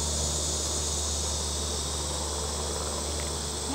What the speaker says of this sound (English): I had a bee that just doesn't want to go back in the hive.